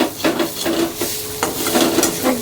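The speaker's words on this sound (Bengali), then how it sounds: "ততক্ষণ কড়াই হাত নাড়িয়ে যেতেই হবে" Fish is stirred in a wok over the flame, brisk scraping spatula strokes repeating every half second or so over a constant close sizzle, no voices.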